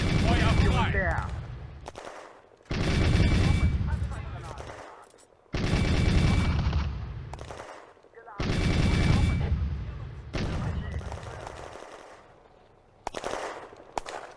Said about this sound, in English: Sturmgeschütz is engaged by a T-60 from the northwest, firing 20mm cannon